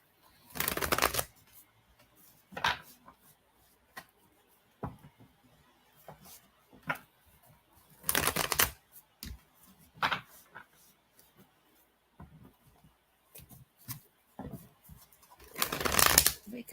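Tarot cards are shuffled by hand in several short bursts of riffling and flapping, heard up close. Quiet taps and handling sounds fill the gaps between the bursts.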